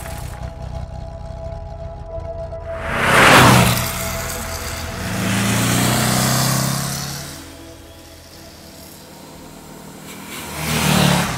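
A vintage 61-year-old Porsche 356 drives through snow, its engine swelling in a few revving surges that rise and fall between quieter stretches, heard without talk.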